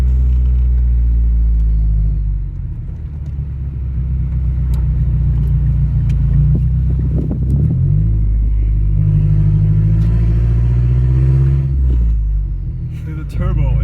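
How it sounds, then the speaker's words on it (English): A turbocharged Mazdaspeed6 engine and exhaust while driving, a loud steady low drone that swells and eases as the car accelerates, with people talking over it. "the turbo is insane"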